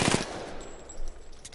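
Video game gunfire from a PS4 shooter: a quick burst of shots at the start, then a softer rattle of fire around the one-second mark under a busy game soundscape.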